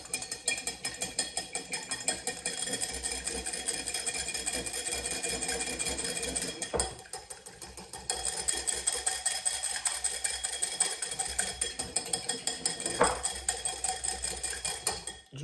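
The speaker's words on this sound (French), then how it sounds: "Donc, dans le saladier, hop, on va battre tout ça." Fast, steady whisking of fish-fritter batter in a bowl, a rapid clattering rhythm that pauses briefly and then resumes.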